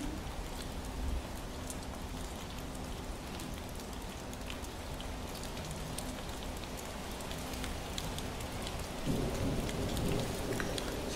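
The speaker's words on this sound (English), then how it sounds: "So you can feel the rain?" Steady rain with rolling thunder inside a VR experience, a soft continuous patter with low rumbles, growing slightly louder near the end, no talking.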